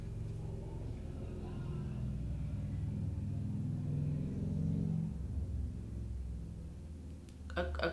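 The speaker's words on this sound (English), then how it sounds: "a truck with really loud music went by" A truck rolls past blasting very loud music, a low booming rumble of engine and bass swelling over several seconds, peaking mid-pass and then fading away.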